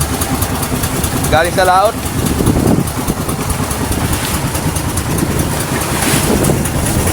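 A boat engine with a damaged cylinder head runs steadily, a constant mechanical drone with wind buffeting the microphone. Someone speaks briefly over the noise.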